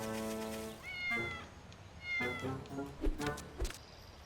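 A cartoon cat meows several times, drawn-out, tonal cries close and clear, with a short voice between the calls.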